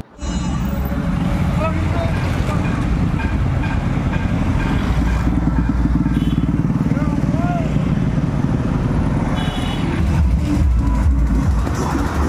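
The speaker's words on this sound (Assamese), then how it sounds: "এই ৰেলীটোত আজি প্ৰায় 200মান বাইক আছে" Many motorcycles idle and rumble together as about 200 bikes gather for an Independence Day rally, a continuous loud engine drone with people talking over it throughout.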